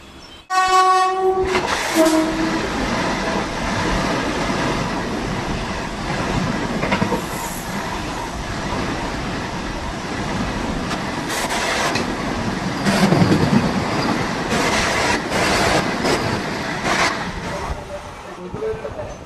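A train horn blares, then a Vande Bharat express roars past at close range through Nadapuram Road railway station, with rushing wind and rattling wheels, staying loud throughout.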